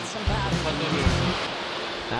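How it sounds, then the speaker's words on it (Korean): Ocean surf at Songjeong beach, a surfing spot with high waves all year, a steady broadband rush of rolling water with low rumbles, while a person speaks over it. "동해와 남해가 만나는 곳이라 북풍과 남풍이 모두 불어 사계절 내내 높은 파도가 밀려온답니다."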